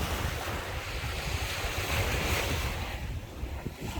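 Waves wash steadily against the shore at a waterside campsite, a continuous broad surf rush mixed with wind buffeting the microphone, with no voices.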